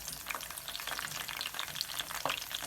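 Onion rings for pyaz pakode fry in oil over a low flame, making a steady, soft crackling sizzle nearby with small pops and no talk.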